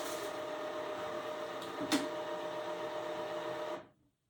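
A Walmart inkjet printer, being set up for DTF printing, whirs and churns steadily as it primes and fills its lines with ink, with one brief click near the middle before the mechanical noise cuts off near the end.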